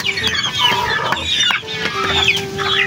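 Backyard chickens cluck and chatter close by in a busy, overlapping flock, with sharp calls rising throughout and a person speaking briefly among them.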